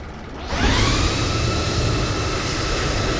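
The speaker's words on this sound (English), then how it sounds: "APU start. And she's firing up." Jet auxiliary power unit on a Citation Sovereign spooling up on the ramp: after a quiet half second a loud, steady turbine roar and whine rises and holds without a break.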